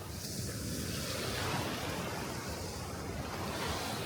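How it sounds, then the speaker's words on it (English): Waves wash onto a beach in La Paz, Mexico, a steady, moderately loud roar of surf mixed with wind buffeting the microphone, continuous throughout with no talking. "here we are at the beach in La Paz"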